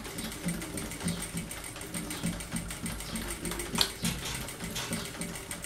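A domestic sewing machine stitches along the edge of a handmade notebook, a rhythmic, rapid mechanical clatter at a steady pace, fairly quiet and close, with no voices.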